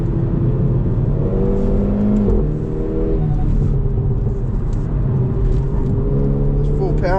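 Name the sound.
Hyundai i30 N accelerating in third gear on track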